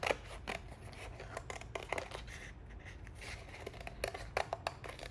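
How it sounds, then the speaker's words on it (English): Scissors snip through printed rice paper along a drawn vase outline, a steady run of crisp, close cuts and light paper rustles with no talking. "I'm just going to cut along my drawing"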